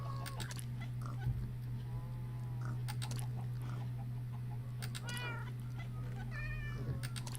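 A cat in the Minecraft video game gives several short, quiet meows in a scattered rhythm over a steady low hum, with no talking.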